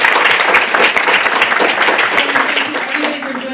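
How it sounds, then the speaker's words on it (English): Audience applause closes a panel conversation about aging and cancer, a loud, dense round of clapping that holds steady and then eases slightly toward the end, with some voices mixed in. "Please give them a round of applause."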